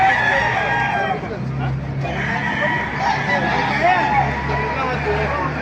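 Roosters crowing among a crowd of fowl at a poultry gathering in Baliuag, Bulacan, continuous and fairly loud over steady crowd babble and background bustle.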